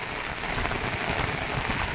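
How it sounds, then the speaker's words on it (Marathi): Heavy monsoon downpour over a village in Khojewadi, with fields flooding: a dense, unbroken hiss of rain hitting surfaces, loud and even throughout, with no talk. "आमच्या इकडे एकदम किती पाऊस झालेला आहे"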